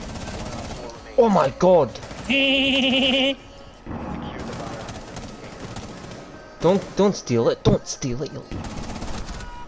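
Video game gunfire comes in short, loud bursts between stretches of frantic shouting, with a brief electronic beep tone in the middle and quieter background noise around it.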